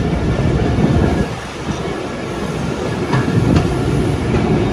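A train rumbles past the Dhuldi railway level crossing, loud and close, with steady rolling wheel noise and clickety-clack of wagons over the rails, a brief dip midway before the roar resumes.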